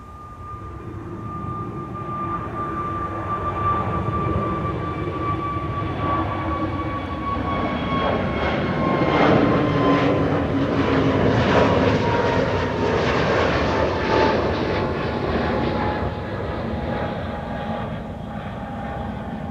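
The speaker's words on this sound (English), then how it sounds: "The first one is already rolling and airborne, KLM flight 1005 to London Heathrow" A KLM airliner on flight 1005 to Heathrow rolls and climbs out from Schiphol, its jet roar swelling and then easing over nearly twenty seconds, with steady whining engine tones sliding gradually downward.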